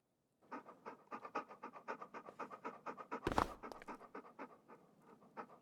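A dog in Stormworks panting rapidly and rhythmically, close and clear, with a brief sharp clatter partway through.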